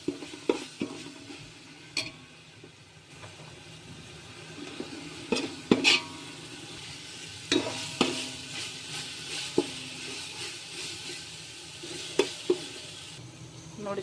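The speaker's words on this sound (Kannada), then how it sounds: "ಚೆನ್ನಾಗಿ ಫ್ರೈ ಮಾಡ್ಕೊಳ್ಳೋಣ ಶುಂಠಿ ಬೆಳ್ಳುಳ್ಳಿ ಪೇಸ್ಟು." Ginger garlic paste frying in a pan for white khushka, a steady close sizzle broken by scattered sharp scrapes and clinks of a spoon stirring against the pan, with no talking.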